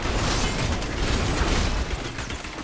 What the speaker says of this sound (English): They're gonna do a chain explosion.